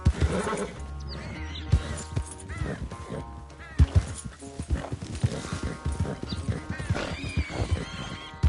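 Horse galloping in Red Dead Redemption 2, rapid clip-clopping hoofbeats with snorts and a whinny over rustling ambience, near and moderately loud, with a player speaking briefly.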